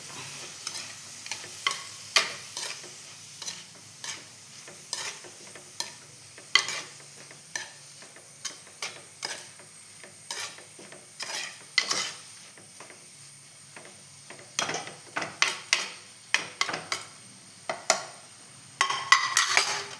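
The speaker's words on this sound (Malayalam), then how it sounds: "അപ്പോൾ ഞാൻ ഇതിലേക്ക് തക്കാളി ഇട്ട് കൊടുക്കുന്നുണ്ട്. അപ്പോൾ എന്നിട്ടെല്ലാം കൂടി ഇളക്കും." Onion and tomato sizzle in a pan for an Onam chicken curry, with a spoon repeatedly scraping and clinking against the metal as the mix is stirred, close and steady with sharp irregular knocks.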